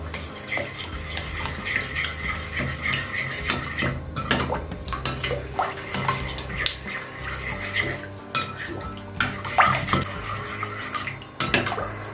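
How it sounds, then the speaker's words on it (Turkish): A spoon stirs sugar and salt in a bowl while making katmer dough, with a busy run of close scraping, rattling clinks against the bowl in an irregular rhythm and no talking. "Ve kaşıkla karıştıralım."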